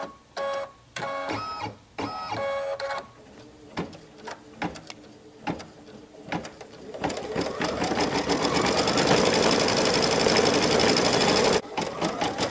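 A home sewing machine stitches the corners of a quilted embroidery table runner: short stop-start bursts of needle whirring at first, then a long steady run of rapid mechanical stitching that ends abruptly.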